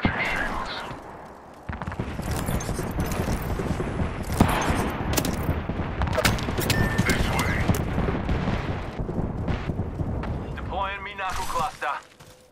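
Enemy gunfire in a video game, dense and sustained, with rapid bursts and booming shots running almost the whole way through, and a voice faintly audible underneath.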